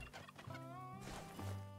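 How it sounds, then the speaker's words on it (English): Wild turkey hens calling in a hunting game, giving faint, close clucks and yelps in a short run with no talking. "Those are all hens there."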